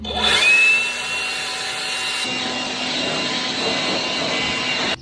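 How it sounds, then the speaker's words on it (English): A loud, steady rush of blowing air from an air blower clearing an RK25 tractor's radiator, continuing without a break and cutting off abruptly at the end. "I'm going to go grab my air blower."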